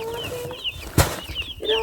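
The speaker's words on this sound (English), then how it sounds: "Hold the chicken" A chicken held on a farm in St. Elizabeth, Jamaica, clucks and flaps its wings in a sudden close burst, with short clucks before and after.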